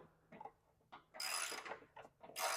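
A ratchet fitted with a 10 mm socket works on the spindle bolts of a Cub Cadet Ultima ZT1 54-inch mower deck, giving several short bursts of quick clicking with brief pauses between them, close up and moderately loud.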